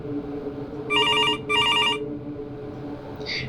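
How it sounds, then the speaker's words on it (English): A kitchen telephone rings loudly, two sharp electronic trilling bursts in quick succession over a low background hum. "the kitchen phone began to ring"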